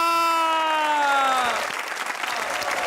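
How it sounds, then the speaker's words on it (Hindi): A studio audience at the Hasna Mana Hai talk show bursts into loud, sustained applause to welcome guests Yasir and Danish Nawaz, following a held musical tone that fades out after the first second and a half. "तो तालियों की ऊंची रहेगी आवाज"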